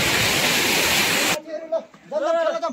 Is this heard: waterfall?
yes